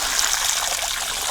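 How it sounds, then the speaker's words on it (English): Tap water pours steadily into a home brew beer fermenting vessel, a continuous bright splashing rush with no talk over it. "go ahead and top it up with some tap water"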